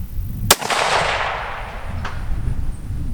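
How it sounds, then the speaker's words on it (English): A single sharp rifle shot fired from a rest on a shooting bag, close and loud, with a long rolling echo trailing off afterward and a faint second crack. "Now watch how the gun behaves when I break this shot."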